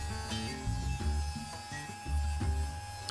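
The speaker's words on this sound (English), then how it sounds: "The glue squeeze out from the lamination is scraped off with an old chisel" An old chisel scrapes glue squeeze-out off a laminated walnut and maple board, giving repeated rough rasping strokes in an uneven rhythm, close and moderately quiet.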